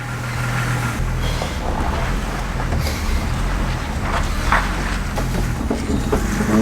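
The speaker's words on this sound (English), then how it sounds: "Dude, we're driving right now." A car drives down a back alley, its steady engine and road rumble heard from inside, with faint knocks and rattles over the constant drone.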